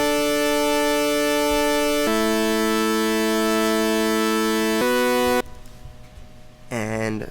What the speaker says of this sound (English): the chords look and sound like this so far